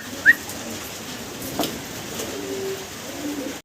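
Racer pigeons kept at a pigeon farm give soft, low, rolling coos close by over faint background noise, with one brief sharp chirp near the start.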